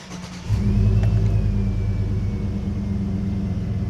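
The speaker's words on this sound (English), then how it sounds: "I'll crank the truck real quick to show you" A 2000-2006 Chevrolet Tahoe engine cranks and catches, then settles into a loud, steady rumbling idle with a slight rev, close up and with no talking.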